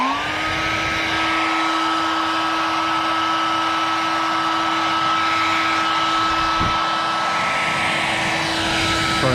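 A hair dryer blows steadily to dry a coating on a stick. It starts with a short rise as it spins up, then holds a constant whirring whine, close and fairly loud, with a single brief knock partway through.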